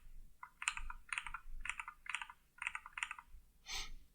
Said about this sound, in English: I'm hovering with my mouse and clicking using shortcut Ctrl B